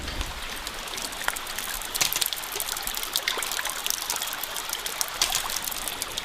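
Water trickles and splashes steadily out of the end of a PVC hydraulic ram pump hose, a close, continuous running flow with small irregular spatters throughout and no talking.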